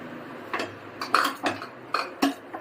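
Boiled potatoes being stirred into fried spices in a pan for aloo palya, a handful of close, sharp clinks and scrapes of a spoon against the pan at an uneven pace, with no talking.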